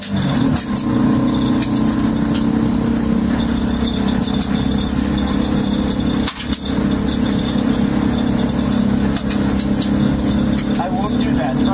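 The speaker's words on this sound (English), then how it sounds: "We're going to try to just to push it with the quad." A quad ATV in first gear idles and pushes a car with its back bumper, its engine droning steadily and loudly up close throughout, with a brief dip midway.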